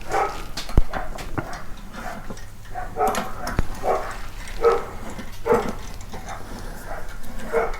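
A dog barks several times in short, spaced bursts at moderate distance while someone works on installing an inner tube in a tractor tire.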